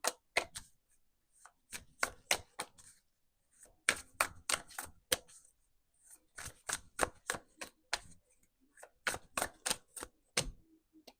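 Oracle cards being shuffled and drawn, heard as quick clusters of crisp riffling snaps and flicks, close and fairly quiet, in repeated bursts separated by short pauses, with no voice.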